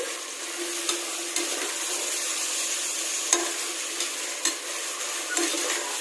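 Carrot and green peas sautéing in a pan for white vegetable brinji rice, a steady close sizzle with occasional soft stirring scrapes, no voices.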